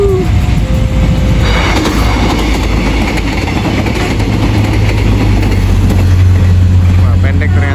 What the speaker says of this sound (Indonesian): itu dia guys, kereta lewat